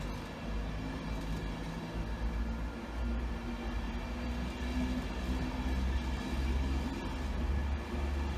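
A train passing at Grantham station, a steady, loud rumble with rolling wheel noise and a low engine drone that holds throughout with no talking.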